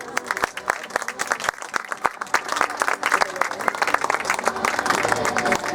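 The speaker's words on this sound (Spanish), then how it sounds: "Un aplauso a todos ustedes" Audience members at an outdoor urbanity discussion gathering in the Plaza de Petare clap, starting with distinct separate claps that build into fuller, denser applause, moderately loud, with no talking over it.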